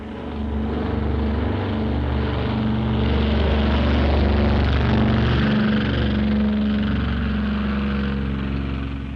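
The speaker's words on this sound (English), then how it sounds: "16 B-25s took off successfully from the Hornet's deck and headed for Japan." Wartime B-25 bombers take off from the deck of the aircraft carrier Hornet, a loud sustained propeller-engine drone that swells and holds with a deep rumble, with no voices.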